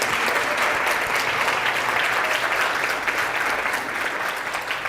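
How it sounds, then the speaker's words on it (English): Steady applause from a large keynote audience, dense rapid clapping sustained evenly throughout with no pauses. "let's give them a round of applause"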